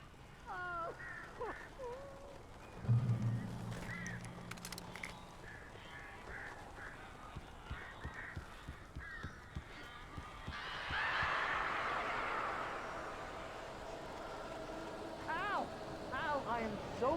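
Strange bird calls, honking and squawking cries, sound intermittently in the video game Alan Wake, mixed with a low rumble, rustling and muffled voices.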